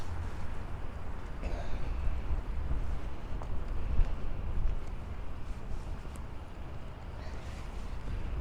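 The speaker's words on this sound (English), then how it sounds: "See if we can get our back to the wind." Wind gusts steadily across the microphone during a city walk in Santa Fe, New Mexico, a continuous low rumbling buffet with brief swells, loud and close throughout the whole stretch.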